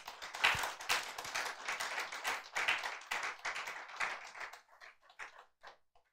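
A church congregation claps together during a Sunday service, a dense burst of many hands that thins into scattered claps and fades out within a few seconds.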